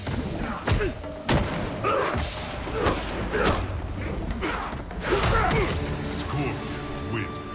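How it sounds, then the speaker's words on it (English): Kick thudding into a chest in the fighting game Mortal Kombat 9: repeated heavy close thumps and whacks with whooshes, mixed with game sounds and voices. "You just got kicked in your chest."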